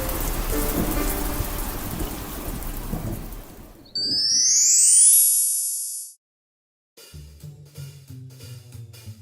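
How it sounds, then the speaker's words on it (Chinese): Very heavy rain pours steadily in a loud, dense hiss for about four seconds, then gives way to a rising chime, a brief silence and soft music. "非常大的雨。"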